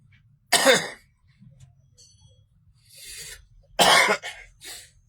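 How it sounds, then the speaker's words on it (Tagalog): Two sharp, loud coughs a few seconds apart, with faint throat sounds and quiet rustling between them. "Yan naman ang ubo-ubo."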